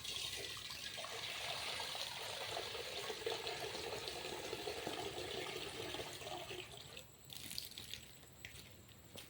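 Water is poured into a container holding a curd and asafoetida mix to dilute it, a quiet continuous splashing pour that eases off and thins out near the end.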